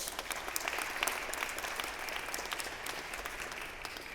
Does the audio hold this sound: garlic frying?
no